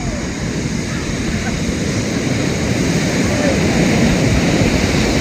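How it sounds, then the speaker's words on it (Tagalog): Strong ocean waves pounding a beach in high wind, a steady loud roar of surf with gusty wind noise on the microphone throughout. "Sobrang lakas ng alon."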